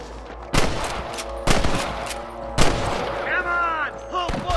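Gunfire crackles in the Western video game Red Dead Redemption: several loud, sharp shots in quick irregular bursts, some with echoing tails, over a low background rumble.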